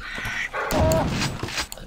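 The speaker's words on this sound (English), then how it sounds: "Definitely one of these nasty dog creatures." A snarling dog creature in the shooter game Quake 2 gives a short, rough growling bark, close and fairly loud, over low game ambience.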